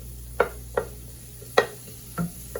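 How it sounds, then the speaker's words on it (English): Diced bacon sizzles in a preheated skillet as it renders its fat, with a steady low fry hiss broken by four sharp scrapes of a spatula stirring the pieces, close and clear. "So I'm just gonna saute this bacon"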